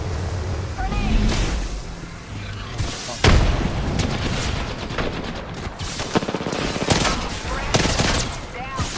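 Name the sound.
grenade explosion and gunfire in a video game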